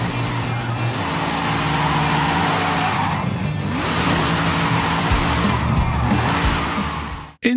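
A car engine in Forza Horizon 5, driven hard through drift zones, holds a loud, steady revving drone with shifting pitch throughout, then cuts off abruptly at the end.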